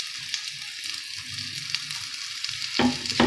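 Shami kebab mixture with spices frying in a pan as an egg is added, a soft steady sizzle with light stirring scrapes and a brief louder crackle near the end.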